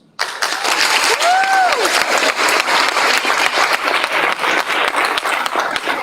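An audience at a school event breaks into loud, steady applause for a student's speech, a dense wash of clapping starting abruptly and holding throughout, with a brief whistle near the start.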